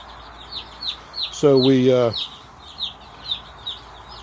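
Black Australorp chicks peep and cluck repeatedly in a brooder house, a steady scatter of short high chirps, with a brief burst of a voice talking over them.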